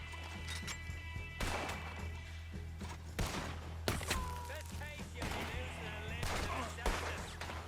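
Gunfire in the Red Dead Redemption 2 video game, several sharp shots at irregular intervals over a steady game soundtrack and background hum, with horses and voices also present.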